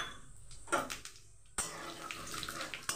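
Cumin seeds hitting hot oil in a wok give a bright, hissing sizzle, sputtering in bursts before swelling into a steady spatter partway through.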